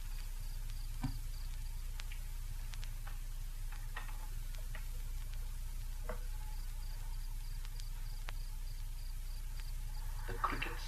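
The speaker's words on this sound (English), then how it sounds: "The crickets sing" Crickets chirp at night in a steady background of faint, rapid ticking pulses under a constant low hum, with no voices.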